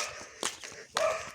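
A dog on a walk gives a couple of short barks, one around the middle and a louder one near the end, close by against a quiet outdoor background.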